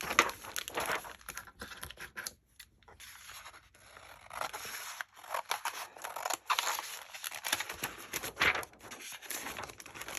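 Scissors snip and scrape through a paper lunch bag page in close, quiet bursts, with paper rustling and crinkling between the cuts.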